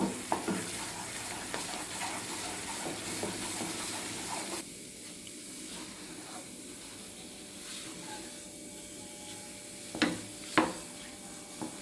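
Milk, jaggery and cardamom powder being stirred in a pan while cooking down for milk peda, a Diwali sweet: steady soft sizzling hiss with scraping, a few sharp clicks near the end, no talk.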